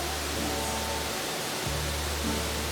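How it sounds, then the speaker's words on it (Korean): A 26 m high waterfall in a Mexican garden pours in a steady, even broadband rush that carries on without a break, with a low hum that drops out briefly partway through. "이 물이 만들어내는 26m 높이의 폭포가 장관이다."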